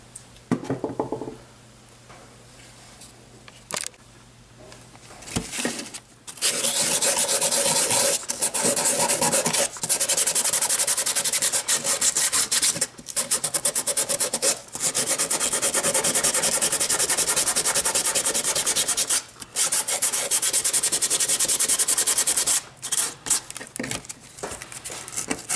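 Sandpaper rasps over a 3D-printed uPrint prototype in close, loud, steady strokes, broken by a few brief pauses after a quieter start. No one talks.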